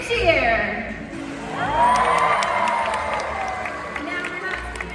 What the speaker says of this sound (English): When you see him, let's give Micaiah a big cheer.